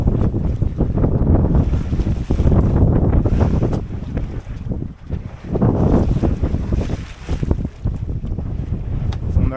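Strong wind and sea rush past a sailboat heeling along at around six knots in an easterly breeze with whitecaps forming, loud continuous buffeting with surging waves and wind noise across the microphone.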